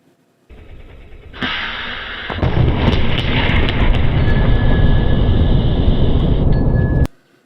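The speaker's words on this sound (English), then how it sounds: "Again, a very impressive, big, explosion, light, sound." Lorentz plasma cannon firing in a video game: a sudden loud blast opens into a sustained heavy roaring rumble that holds steady for several seconds before cutting off abruptly.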